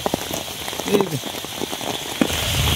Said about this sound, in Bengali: আপনার বৃষ্টি পড়তেছে তো ক্যামেরার মধ্যে আপনার সিডা আইতেছে আর কি